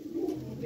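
Teddy golden pigeons coo softly in a brief, low burbling call, close by, with faint background noise.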